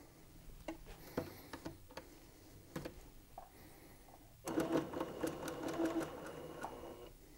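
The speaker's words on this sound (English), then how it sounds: "I'm going to first stitch it all the way around, and then we'll leave the opening we need." Sewing machine stitching seams in fabric pieces for a soft indoor ball, a few brief bursts of needle clatter and then a steady rapid run of stitching near and clear with no talk.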